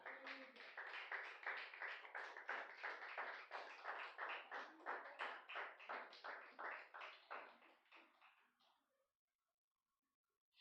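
A church congregation claps in steady rhythm for the Lord, around two dozen even beats in quick succession that fade out near the end, then silence.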